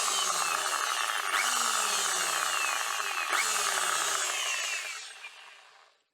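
A repaired hammer drill runs loud and close in a steady high whine, briefly bogging and picking up twice, then winds down to silence as the trigger is released.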